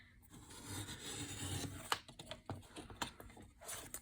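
Paper trimmer blade cutting through card stock for a Christmas snowglobe pop box card, a rough scraping rasp running for a couple of seconds, then a few short sharp clicks and taps of handling nearby.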